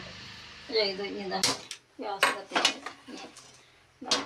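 A metal frying pan (cheenachatti) is set down on the stove while homemade Kerala mango pickle is being made, giving several close clanks and scrapes of metal on metal, with a person talking between them.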